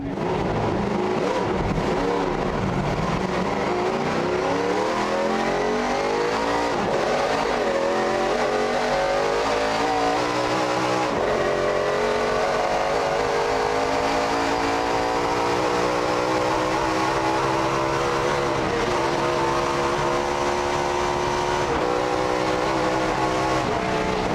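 A Ford Talladega race car roars under hard acceleration, its engine note climbing in steady sweeps and dropping at each gear change, loud and close with no talk.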